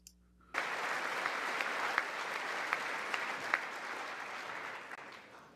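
Sustained applause from a large audience during a presidential speech to Congress, beginning abruptly after a quiet moment and continuing as a dense, even roar of clapping with a few sharper claps standing out.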